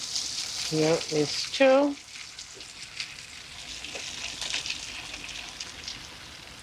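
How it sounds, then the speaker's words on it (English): Veal chops frying in a pan for a cheesy veal chop and cabbage dish, a steady close sizzle and crackle that runs through the whole stretch, with a short bit of speech near the start. "So when you're frying those chops, you gotta be careful not to burn"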